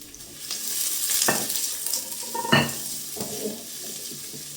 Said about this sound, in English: First, saute the shallots and garlic until fragrant.